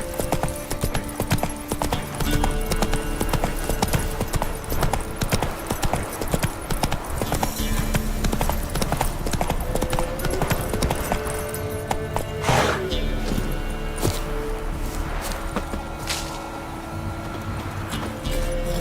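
Roach, a horse in The Witcher 3 video game, gallops with steady, loud hoofbeats clip-clopping in a fast rhythm throughout, with an occasional whinny and game background music underneath.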